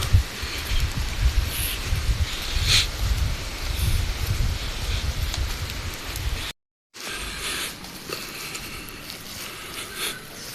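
Steady rain pattering on surfaces nearby, a continuous hiss with scattered louder drops and a brief gap of silence partway through.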